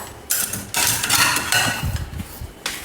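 Plates and spoons clatter and clink as they are handled, a few bright metallic chinks and scrapes in quick irregular bursts, close and loud with no talking.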